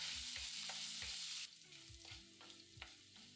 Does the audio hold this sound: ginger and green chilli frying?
yes